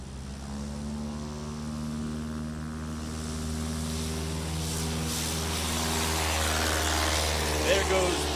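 A STOL airplane's propeller engine drones steadily at Music City Executive Airport, building gradually louder as it begins its takeoff roll, continuous and fairly near throughout.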